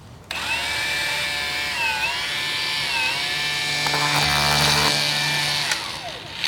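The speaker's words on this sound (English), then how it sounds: "It's actually spinning the Red Max shaft, which is kind of interesting." Milwaukee M18 Fuel cordless string trimmer spinning a Red Max trimmer shaft fitted into it, a loud steady electric motor whine with shifting pitch throughout, close and alone.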